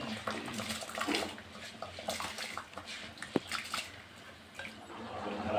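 Soaked rice, three quarters of a kilo, tipped into a pressure cooker of chicken biryani, a wet splashing pour with clinks of a metal vessel and utensil, close and moderate in level.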